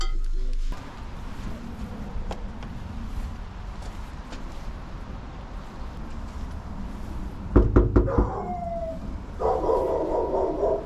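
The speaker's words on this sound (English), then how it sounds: "Almost got eaten by a dog" A dog barks at a delivery driver dropping off an order at a house: a few sharp, close barks and yips arrive in bursts near the end after a quieter stretch of outdoor ambience.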